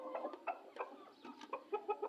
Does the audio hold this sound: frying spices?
no